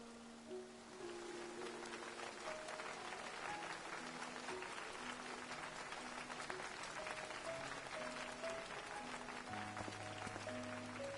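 A crowd in the game Final Fantasy 14 cheers and applauds at a knight's investiture in Ishgard, a distant, steady roar of clapping heard under soft musical tones.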